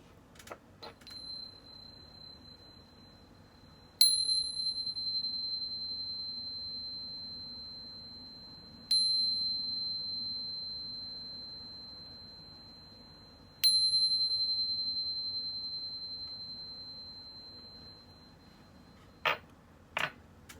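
A bright chime rings three times at even intervals, each ping ringing out and slowly fading, with a couple of soft clicks at the start and end.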